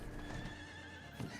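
A horse mount in Diablo IV gives one whinny that rises near the end, over a busy layer of game music and ambience.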